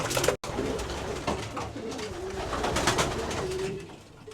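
Racing pigeons in an allotment loft coo continuously, a dense chorus of soft warbling calls close by, with rustling and shuffling throughout and no talking.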